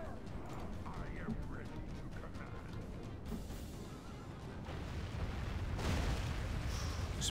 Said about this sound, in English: Some good shots from our catapults.